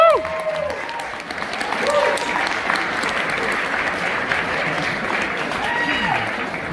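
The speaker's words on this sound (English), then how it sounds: "let's give an incredible hand of applause" Audience applause at an awards ceremony keynote, a steady wash of clapping from a crowd, with some faint voices and background tones mixed in.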